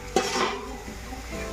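Leafy greens go into a hot pan of red, fried spice paste. There is one sharp clatter and a burst of sizzling, followed by softer stirring and frying.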